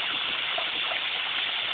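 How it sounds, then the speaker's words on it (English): A couple of small garden waterfalls in Georgia spill into a mini pond, giving a constant, close splashing gush of water that stays steady throughout. "Got a couple of waterfalls here."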